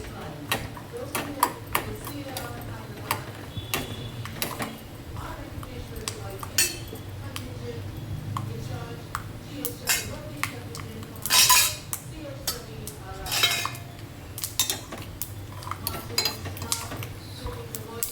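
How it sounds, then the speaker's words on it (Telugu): Peanuts frying in a pan as a utensil stirs them, giving repeated light clinks and scrapes of metal on the pan over a low, steady background, with a voice talking at times. "పల్లీలు వేగాలి కాబట్టి పల్లీలు వేసుకోండి."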